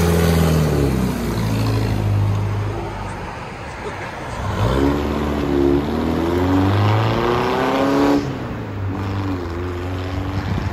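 A 2000 Toyota Tacoma with a Borla ATAK exhaust and a leaking manifold revs loudly up close, its pitch climbing and falling in several swells between steady idle stretches.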